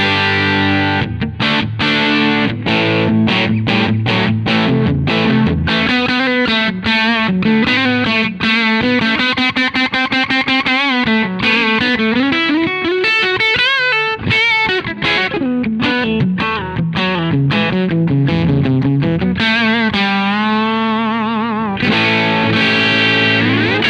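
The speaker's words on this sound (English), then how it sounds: "You've got a nice overdriven sound." An overdriven electric guitar on its humbucker pickup, run through a pedalboard, plays a continuous, loud, close lead line of sustained bends and quick picked runs.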